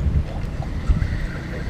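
A boat engine runs at sea as a low, steady rumble mixed with wind buffeting, fairly loud and close, with a few knocks and no clear talk.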